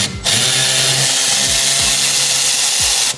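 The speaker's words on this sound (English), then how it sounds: "If you want a power ratchet like this to save your arms" Power ratchet spinning off a Torx bolt, likely a T30, on the turbo inlet elbow pipe of an MK8 Golf R, a loud, close, steady whirring drive with a few brief clicks in its pitch.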